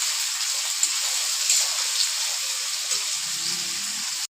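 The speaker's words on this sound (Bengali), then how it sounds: "এবার আমি লাল করে ভেজে নেব পেঁয়াজ আর কাঁচা লঙ্কা টমেটোটাকে।" Onion, green chili and tomato fry in a pan, giving a steady bright sizzle with faint scattered pops that stops abruptly near the end, with no talk.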